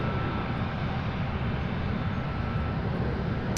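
A five-year-old cargo aircraft at Louisville International Airport produces a steady, fairly loud engine rumble that stays constant for a few seconds, heard alone without talk.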